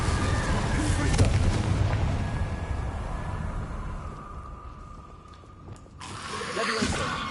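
Confringo spell explosion in the Hogwarts Legacy video game, a loud booming blast with a rumbling tail that fades over several seconds, followed by another sharp burst near the end.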